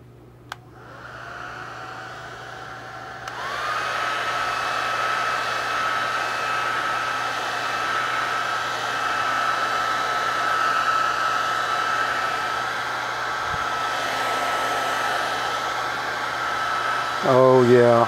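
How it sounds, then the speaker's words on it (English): Hair dryer blowing on freshly applied paint on a NYC Hudson locomotive model, a steady loud whoosh with a high whine that starts, kicks up to full power after a few seconds and runs continuously until a brief clatter near the end. "hit it with the air dryer so that we can dry the color, dry the paint"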